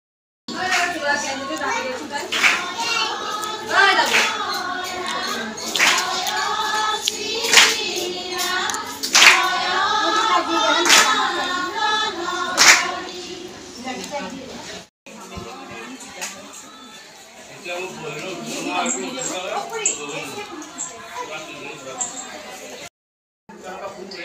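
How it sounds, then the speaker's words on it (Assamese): Repeated sharp hand claps in quick, uneven bursts, close and loud, with children's voices chattering alongside; after a brief gap, quieter claps and talk continue. "ছোৱালীয়ে কি হাত চাপৰি বজাই আছে"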